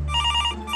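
A telephone rings with a short electronic trill, two quick bursts of bright ringing over a low steady hum, heard clearly with no voices.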